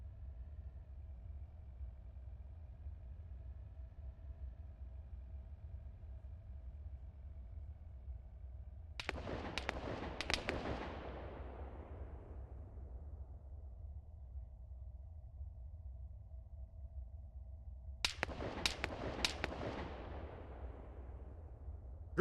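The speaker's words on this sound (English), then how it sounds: "Requested close air support at the designated location." Close air support strike in the video game Arma 3, two heavy, rumbling blasts about nine seconds apart, each a burst of several impacts fading slowly over a steady low background hum.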